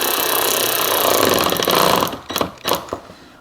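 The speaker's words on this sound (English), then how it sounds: "I love this ratchet wrench, eh?" A ratchet wrench whirs and clicks steadily while the skid plate is refitted under an Audi SQ5, loud and close, ending in a few sharp separate clicks.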